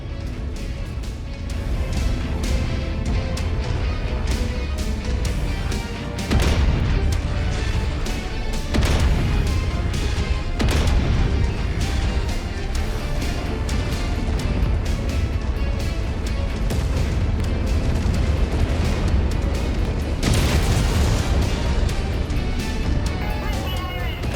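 Weapons fire and explosions in MechWarrior 5 in VR, a dense, loud stream of heavy impacts and blasts with sharp bursts at irregular intervals, with a voice talking over the combat.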